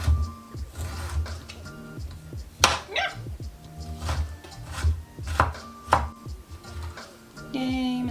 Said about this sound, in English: Yay, minced ginger